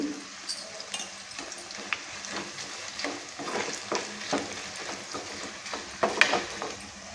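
Curry leaves and turmeric go into hot oil for tempering a tomato pickle. Soft continuous sizzling sounds under repeated stirring scrapes and light clinks, with a brief louder clatter near the end.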